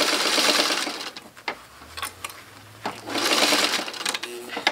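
A sewing machine stitches a thick denim jeans hem at about ten stitches per inch, running in steady buzzing bursts with short pauses between runs, close and loud.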